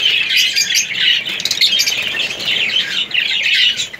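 Caged pet birds chirping while eating lucerne, a busy, loud flurry of overlapping high tweets and squawks that carries on without pause.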